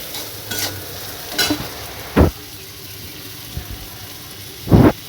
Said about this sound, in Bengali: দেওয়ার পর একটু নাড়াচাড়া করে নেব